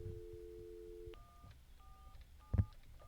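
An old UK landline phone plays its dial tone, then dials 1471 as four evenly spaced keypad beeps, with a brief thump from handling partway through, faint and close with no speech.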